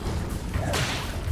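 An Incendio fire spell cast in Hogwarts Legacy: a short, close whooshing whip-like burst rises and flares briefly over a low rumbling game backdrop, with no talking.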